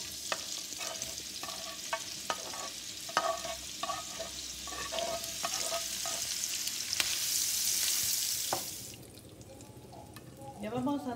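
Ham fries in a pan with a steady crackling sizzle, interrupted by scattered clinks and scrapes of stirring, then swells into a louder hiss before easing off near the end.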